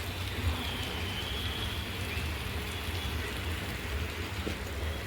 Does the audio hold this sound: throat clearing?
no